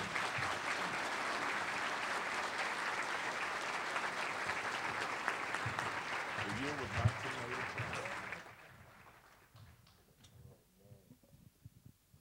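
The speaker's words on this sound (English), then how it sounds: "would you applaud and welcome to the stage here in Memphis, Ron and Manny." A Memphis breakfast-club audience applauds as speakers are welcomed to the stage, a sustained full crowd clapping that holds steady for about eight seconds before quickly thinning out into scattered claps and quiet room noise.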